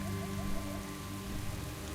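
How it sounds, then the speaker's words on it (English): Steady rain falls in World of Warcraft, a soft continuous hiss of drops with a faint tonal hum from the game underneath, quiet and even throughout. "all the Zandalari here in the rain. They've definitely improved the weather effects"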